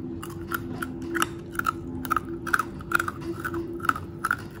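Crunchy homemade onion sticks (stik bawang) bitten and chewed close to the mic, a rapid run of sharp crisp crunches over a low steady hum.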